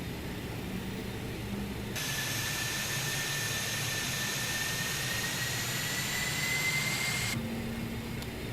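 BAE 146 jet engines spool up in Microsoft Flight Simulator, a steady loud roar joined by a rising high-pitched whine that holds for several seconds and then drops away, with no talk.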